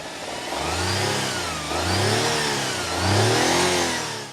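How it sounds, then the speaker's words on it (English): A BMW X1 25e hybrid SUV engine revs three times in a row, each rev climbing in pitch then easing back, loud and close with a steady rumble between. "This is how the engine sounds like."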